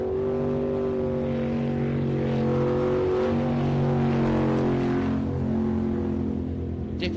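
A V8 superboat races on water in a national championship heat, its engine a loud, continuous, close drone that holds a steady pitch with slight rises and falls and no break throughout.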